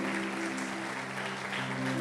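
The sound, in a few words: congregation applauding in church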